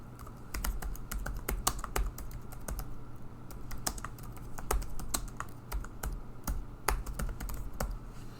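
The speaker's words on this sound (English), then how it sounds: "Now that I've typed the text in" Steady run of computer keyboard typing as text is entered, close and fairly quiet, with irregular quick keystrokes continuing throughout over a low background hum.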